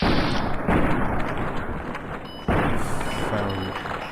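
Loud gunfire from Fallout New Vegas, two heavy booming shots roughly two seconds apart, each followed by a long rumbling decay, with dense game ambience filling the gaps.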